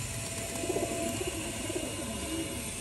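A flock of pigeons coos softly and repeatedly nearby, low burbling calls over a constant background hum, with occasional faint mechanical clicks.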